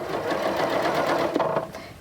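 Sewing machine stitching quilt rows together, a steady rapid whir of needle strokes running close and continuous for a couple of seconds.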